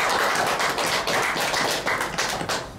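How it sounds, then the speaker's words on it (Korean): A church congregation applauding together, producing dense, steady, loud clapping throughout with no voices. "우리 다 같이 하나님께 감사와 영광의 박수 올려드립니다."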